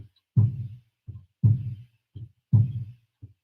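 A hand drum is struck in a slow heartbeat pattern, a heavy low thump followed by a softer second stroke, repeated three times with clear gaps, close and alone.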